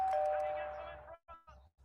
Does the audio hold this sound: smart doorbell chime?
yes